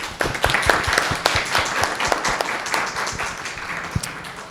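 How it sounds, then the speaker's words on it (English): A seminar room gives a round of applause to panelists, dense clapping from many hands that holds steady and then begins to thin toward the end. "join me to give a round of applause to our panelists"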